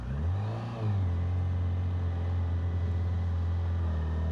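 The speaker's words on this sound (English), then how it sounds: "You always notice with a 4-cylinder inline 4, you need to give them a bit more rev." Honda CB1000GT inline-four motorcycle engine revving up, a steady loud mid-pitched drone with a brief rise in pitch near the start, close and continuous without talk.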